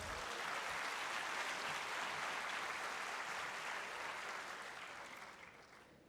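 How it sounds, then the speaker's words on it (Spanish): Applause at a university business event, CADE Universitario 2016, greets the speaker giving the closing words; dense, even clapping from a large audience holds steady, then thins and fades over the last second or two. "Un fuerte aplauso para él, por favor"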